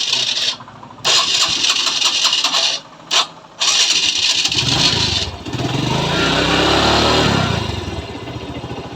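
A TVS Star City+ 110 motorcycle is started up close: several short cranking bursts separated by brief silences, then the engine catches and settles into a loud, steady idle.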